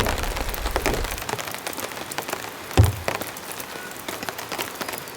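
Heavy rain patters across a camp tarp at a tent campsite in a storm, a dense hissing wash with scattered sharper drops and one heavier thump partway through.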